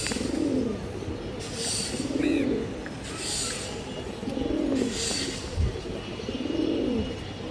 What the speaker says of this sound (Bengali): নর্মালি দর্শক দুইটাই বড় সাদের কবুতর